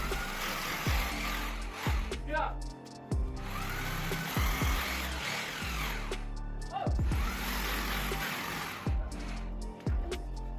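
Electric drill boring a shallow hole into a wall for a plastic wall plug during casing and capping wiring, a loud whine running in several bursts with short breaks and knocking between them.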